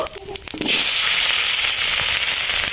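Raw potatoes hit hot oil left from frying fish, erupting into a loud, dense sizzle after a brief clatter, then holding a steady close crackle.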